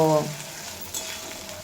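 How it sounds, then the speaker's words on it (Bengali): Ginger and green chilli paste frying in a pan gives a steady, soft sizzle. It follows a brief tonal sound at the start, and a small bump in the sizzle comes near the one-second mark. "এবার এড করে দেব আদা আর কাঁচা লঙ্কা বাটা, দিয়ে কাঁচা গন্ধ চলে যাওয়া পর্যন্ত ভেজে নেব।"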